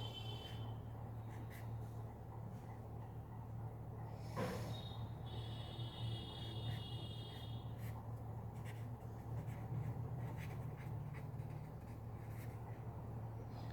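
Pen strokes scratch quietly and intermittently while a diagram is drawn, faint scraping against a steady low hum and room noise.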